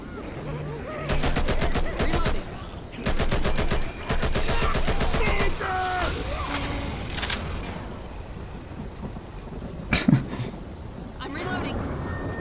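Rapid automatic gunfire from the video game Left 4 Dead 2, several loud sustained bursts with gaps between them and a few single sharp shots later, while players talk over the action.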